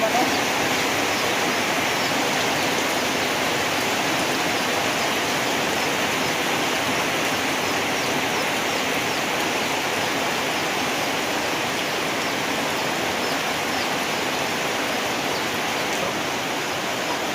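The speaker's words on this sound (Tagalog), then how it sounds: "Malakas ang ulan sa dako pong ito." Heavy rain pours down in a dense, steady hiss with no letup, loud and close throughout.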